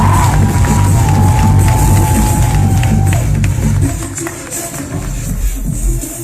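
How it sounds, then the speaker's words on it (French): A loud crowd cheers at the awards ceremony of the Tour de l'Espoir cycling race as the green points jersey is presented, a dense roar of shouts and whoops that fades somewhat toward the end. "Applaudissements pour Nathanaël."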